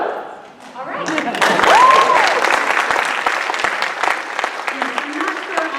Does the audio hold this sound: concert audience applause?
yes